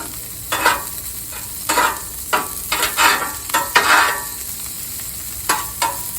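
Burgers sizzle and fry on a Blackstone griddle, a steady crackling hiss broken by repeated scraping and stirring bursts from a spatula, close and fairly loud with no talk.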